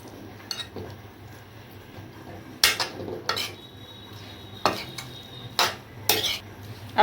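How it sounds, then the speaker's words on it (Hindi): A spoon clinks and scrapes against a bowl of spices in short, irregular bursts of stirring, close up, with quiet pauses between strokes. "अब देखिए सबको अच्छे से मसाले को मिक्स कर लेंगे।"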